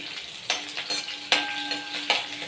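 Curry leaves and byadgi chillies sizzle in hot tempering oil, a steady close crackle broken by several sharp clanks of a spoon stirring against the pan.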